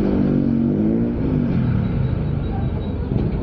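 A Honda ADV 160 scooter's exhaust on a short ride, a loud, close engine drone with a rising then easing rev and steady rumble throughout.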